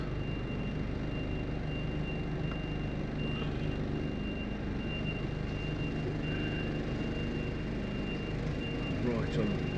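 A truck backing up with steady engine rumble and faint intermittent reversing beeps in the background, heard from inside the cab.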